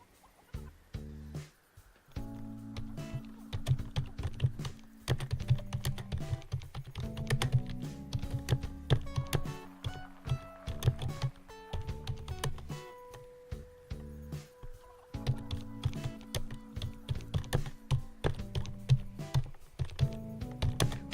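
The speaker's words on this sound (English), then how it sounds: "I'm just typing something for my friend." Computer keyboard typing sits under game music in Animal Crossing: New Horizons: steady rapid key clicks in bursts, moderately close, with no talking.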